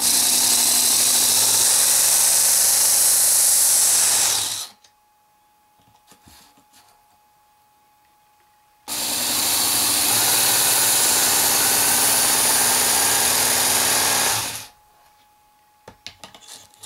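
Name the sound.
WorkSharp Ken Onion Edition belt sharpener running, sharpening a knife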